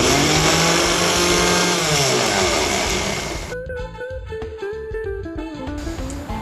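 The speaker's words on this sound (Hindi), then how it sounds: "अब फ्रेंड्स इन सब को हम मिक्सी में मिक्स करेंगे।" A kitchen mixer grinder whirs loudly and steadily as it blends almonds and other ingredients, its motor pitch shifting as the load changes, then slowing and winding down with rattling as it stops.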